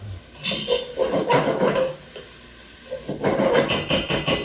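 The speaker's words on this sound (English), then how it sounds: "But I like to fry it just that last minute." Garlic frying in oil in a pan for marinara sauce, with a soft sizzle under repeated clinks and scrapes of a utensil stirring against the pan in bursts.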